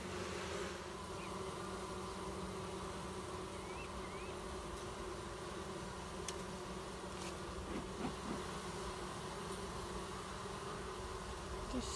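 Honey bees buzz inside an opened beehive, a dense, continuous hum of many wings, fairly quiet and steady throughout.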